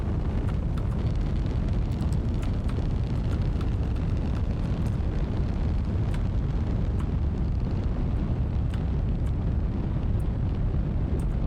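Solid rocket booster thrust during a Kerbal Space Program 2 launch, a steady loud roar of broadband rumble held without a break throughout, with no voices over it.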